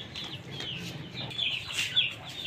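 Chickens and roosters clucking close by on a pet farm after a fight between roosters, a busy stream of overlapping clucks and short squawks growing louder toward the end; no talking.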